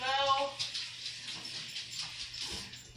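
Hot water running from a kitchen tap onto a kitchen towel, a steady hissing stream close by, with a brief voice at the start.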